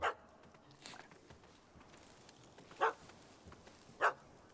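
A dog barks in The Witcher 3: three short, faint, separate barks spaced a few seconds apart over quiet background ambience.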